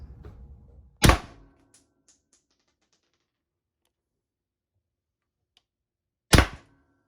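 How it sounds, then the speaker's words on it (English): Two sharp shots from an FN303 less-lethal launcher fired over a chronograph, each a single loud crack spaced several seconds apart in an otherwise quiet setting. "here are some chronographed shots"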